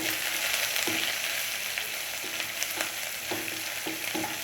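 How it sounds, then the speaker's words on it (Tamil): Chopped onions and green chilies fry in hot oil in a pan for rava upma, a steady close sizzle with occasional stirring scrapes and no speech. "இப்போது நம்ம வந்து நறுக்கி வச்சுக்கூட வெங்காயம், மிளகாய் சேர்த்துக்கலாம்."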